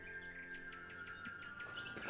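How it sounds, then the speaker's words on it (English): Bird song ambience in a board game's calm background music, a soft series of repeated chirps in a quick descending rhythm over a quiet sustained tone, faint and alone. "listening to the bird song"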